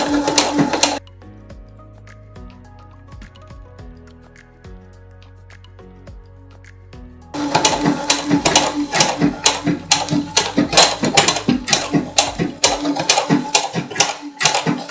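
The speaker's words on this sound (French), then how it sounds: "Donc j'appuie tout simplement sur ma pédale. Et je laisse la machine à coudre faire le travail." A domestic sewing machine stitching fabric, run by foot pedal with a presser foot attached: a brief burst of stitching, a quieter stretch with a low steady tone, then a loud, fast, even run of needle strikes.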